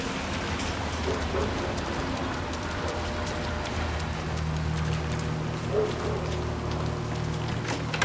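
Steady rain falls on the streets of Chongqing in Hitman 3, a dense continuous patter with soft splashes and low city rumble beneath, no voices over it.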